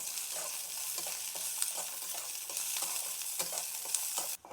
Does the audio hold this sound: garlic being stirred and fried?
yes